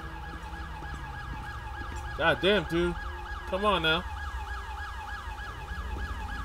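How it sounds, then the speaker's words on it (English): Police sirens from the game GTA V wail continuously in a looping, rising-and-falling pattern, with a voice cutting in briefly partway through. "Kill your sirens."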